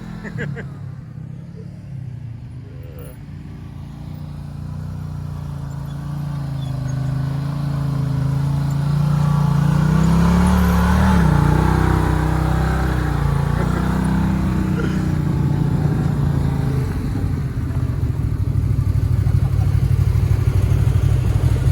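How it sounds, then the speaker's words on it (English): An off-road vehicle on a Moab trail heats its tires, its engine rumbling and revving with rising, sustained low growl and clatter over about twenty seconds while people talk nearby. "Just heating the tires."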